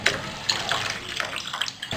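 Water poured from a glass into a cooking pot holding corn for a winter soup, a close, steady gushing splash lasting about two seconds with small surges, no voices.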